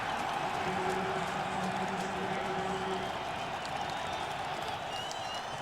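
A stadium crowd roars steadily throughout a 2002 Dolphins vs Patriots football game, a loud, unbroken wash of massed voices with faint whistle-like tones rising briefly above it.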